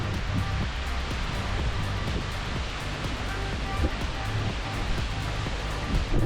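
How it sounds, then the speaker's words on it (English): Dense continuous roar of South Falls in Silver Falls State Park, Oregon, heard up close as a steady broadband rush of falling water with slight surges and no voices. "So you can walk around and go behind the waterfall."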